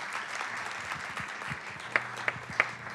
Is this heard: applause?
yes